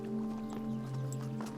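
Horse hooves clip-clopping steadily in a continuous rhythm, heard close and fairly loud over a low, sustained background hum.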